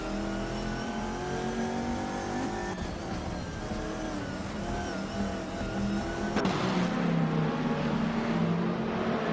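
GT race car engines at Mugello in a racing video game, several cars revving and shifting through gears in a steady high-pitched drone, with a sharp change as one car closes in and passes near the end.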